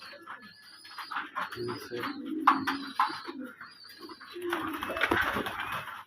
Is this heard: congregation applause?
no